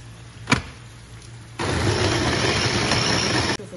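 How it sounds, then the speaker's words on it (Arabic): Kitchen blender switching on to blend peppers with a little water, a short tap first, then a steady loud motor whir for about two seconds before it cuts off abruptly. "رجع تاني نضرب الخلاط"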